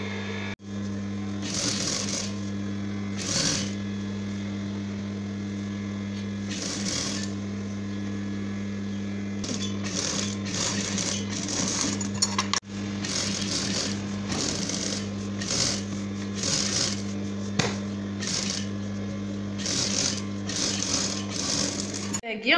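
An electric sewing machine stitches the sleeve of a jebba, its rapid mechanical hum running in repeated bursts with short pauses and a steady motor drone, heard up close while someone talks intermittently.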